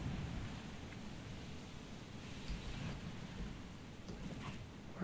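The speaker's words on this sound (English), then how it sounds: "We got a storm coming in, too." A thunderstorm rolls in within the video game The Forest, a steady broad rumble of rain and distant thunder washing along quietly and evenly throughout.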